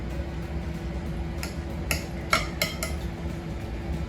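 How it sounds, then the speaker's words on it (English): A knife slices through vegan galareta on a plate, giving a handful of soft clicks and light scraping taps over a quiet steady hum. "I will just cut a slice of my beautiful galareta"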